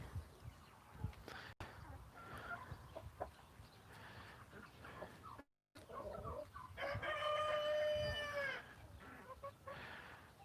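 Hens cluck in irregular bursts while eating greens, then a rooster crows loudly and clearly near the end, with a brief dropout midway and farmyard background.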